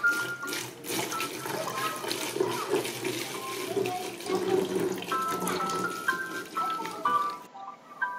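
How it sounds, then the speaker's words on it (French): Vinegar poured into a container gives a steady, close liquid trickle and splashing with a slight ringing tone, and it ends abruptly. "il suffit de mettre le vinaigre"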